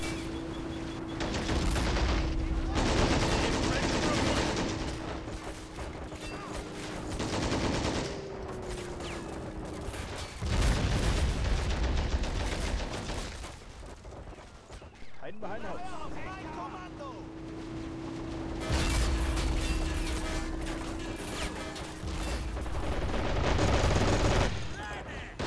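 Machine gun fire in a tactical war video game, dense bursts of automatic gunfire mixed with game noise and a low engine hum, with someone talking over it.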